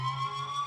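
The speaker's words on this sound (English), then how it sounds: "You've got loads of siren sounds. I made all them on the Moog Matriarch." A synthesizer siren made on a Moog Matriarch holds a steady, bright electronic tone with a low hum beneath, sustained and alone for a brief moment.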